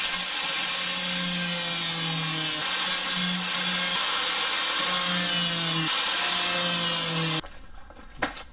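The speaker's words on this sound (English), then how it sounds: "I was hoping if I cut a channel in the screws, I'd be able to sneak the old regular up there and pop them out." A cutting tool slots rusted screws on an 1988-98 Chevrolet K1500 pickup with a loud, continuous, high grinding whine for about seven seconds, then cuts off abruptly, leaving faint clicks and knocks.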